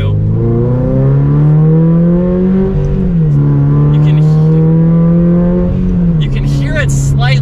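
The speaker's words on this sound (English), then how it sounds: "You could hear just the whoosh right in front of you." Toyota GR86 fitted with an aftermarket intake and exhaust revs up and settles in long, loud sweeps close by, with a whooshing intake note and a brief higher tone near the end.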